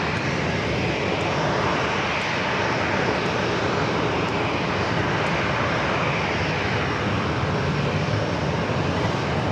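A United Airlines Boeing 737-800 comes in to land at San Diego airport, its engines producing a steady, loud broadband roar that holds evenly for the whole stretch with no voices over it.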